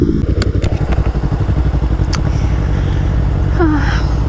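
A motorcycle riding along, its engine a loud, close, pulsing rumble that settles into a steady drone, with a few brief clicks and a short squeak near the end.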